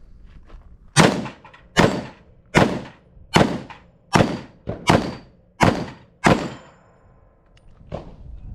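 Eight .30 carbine rounds ringing off an 8-plate steel rack, sharp loud cracks with short decays, evenly spaced about every three-quarters of a second, then a pause before a fainter final shot.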